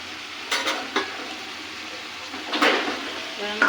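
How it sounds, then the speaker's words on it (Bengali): Spices and fried hilsa fish cooking in a pan, a soft continuous sizzle with a few sharper stirring and scraping bursts, moderately close, with a voice speaking over it. "এবার আমি কিছুক্ষণ মশলা কষিয়ে আমার ভেজে রাখা ইলিশ মাছগুলো এগুলো সবগুলো দিয়ে দেব"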